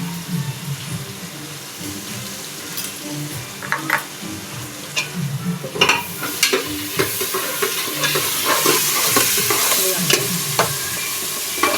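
Ginger garlic paste frying in a pan, a steady sizzle punctuated by repeated clinks and scrapes of stirring, growing busier and louder in the second half.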